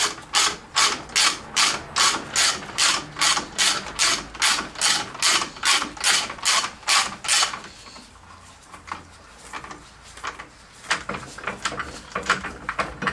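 A ratchet wrench loosens the nut on a Peugeot 206 shock absorber spring, a steady run of rapid rhythmic clicking strokes close up, then stopping and giving way to quieter handling noises and a few scattered knocks.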